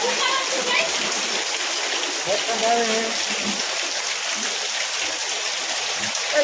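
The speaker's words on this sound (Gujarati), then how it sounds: "વરસાદ આવે છે" Heavy rain pouring with water flowing and splashing, a constant loud rushing hiss throughout, with a voice talking briefly under it.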